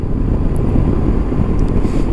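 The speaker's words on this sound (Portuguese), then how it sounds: "Estamos em estado de alerta aí com esses ventos." Strong wind buffets the microphone in a dense, continuous roar during a windy alert period, with low rumbling gusts and no talking.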